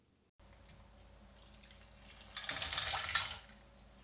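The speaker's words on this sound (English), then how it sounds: "now we just add the ice cold water" Ice-cold water poured from a cup into tempura flour in a bowl, a quiet splash that swells briefly to a louder gush and then fades, with no speech over it.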